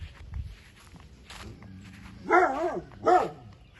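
A dog barks twice on a farm during grass cutting and cleaning work, two loud, close yelps about a second apart after quieter footsteps and rustling.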